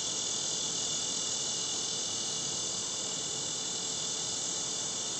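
Cicada song from an Illinois species, a steady metallic grinding drone that holds unbroken at an even, fairly loud level throughout, with no pauses and no voices.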